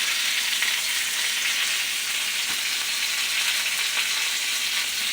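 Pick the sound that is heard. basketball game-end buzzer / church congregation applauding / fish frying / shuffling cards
fish frying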